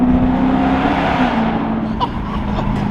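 A Lexus LS pulling away, its engine droning steadily and close with a low hum throughout, a brief higher chirp near the end.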